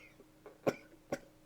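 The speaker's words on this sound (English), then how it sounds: "This long speech had been interrupted by many a cough and gasp for breath" Two short, sharp coughs from one person in a quiet room, spaced about half a second apart, close and moderately loud, with a faint throat sound just before.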